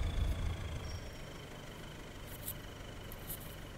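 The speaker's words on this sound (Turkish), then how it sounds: "Şimdi traktörümüzü tarlaya doğru sürüyorum." A tractor engine in the Farmer Sim 2018 video game drones steadily while the tractor, with a plough hitched on, drives toward a field. The low rumble is constant and fairly quiet, with no talk over it.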